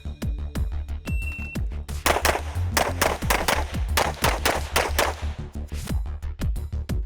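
Gunshots ring out at targets during a shooting-on-the-move drill, a rapid series of sharp, loud reports in quick pairs and bursts at close range, with no talking.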